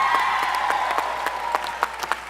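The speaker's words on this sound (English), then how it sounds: "Give him a big round of applause." An audience claps in a brief burst of steady applause at a conference panel, many hands patting together at moderate distance.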